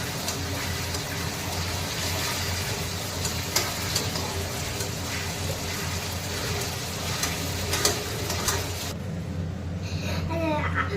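Onions fry in a pan with a steady, dense sizzle that runs throughout, loud and close, with faint stirring scrapes and a brief drop in the hiss near the end.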